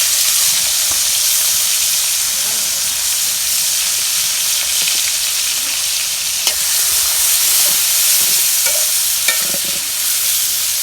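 Fish frying in oil in a home village kitchen, a steady broad sizzle and hiss with occasional crackles and pops, close and continuous throughout with no talk.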